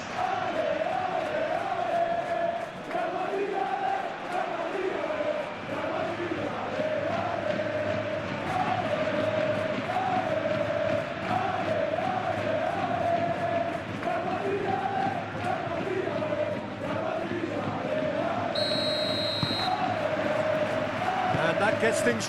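Capacity stadium crowd at a Real Madrid vs Benfica Champions League match, a steady dense roar with sustained chanting throughout, a distant whistle near the end.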